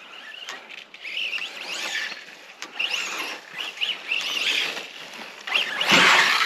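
A Mini Kraton RC car accelerates on sheet metal, its electric motor whining up and down in quick bursts with light rattling, ending in a harsh, noisy clatter.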